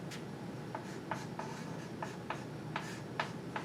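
Chalk or a marker taps and scratches against a board in short, regular strokes, about a dozen marks in quick succession, close and clear over a steady room hum.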